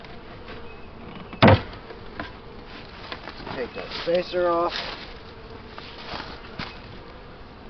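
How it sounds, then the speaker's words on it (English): Honey bees buzzing around an open hive during a strong nectar flow, a steady hum with a few louder passes close by, under a voice speaking. "Some of the bees are up there."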